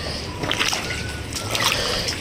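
Water splashes and sloshes in a couple of bursts inside a flooded house after heavy rain, over a steady background wash, fairly close, with no talking.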